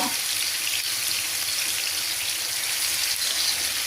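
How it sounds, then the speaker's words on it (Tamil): Fish frying in hot oil in a pan gives a steady, loud, hissing sizzle throughout, with no talking over it. "நல்லா ஃப்ரை பண்ணிக்கலாம்."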